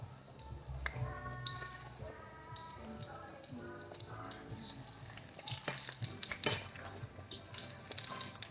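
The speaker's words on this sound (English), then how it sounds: "You can hear the sizzle." Steady crackling sizzle of cassava frying in hot oil, with bursts of popping and some background clatter and faint voices.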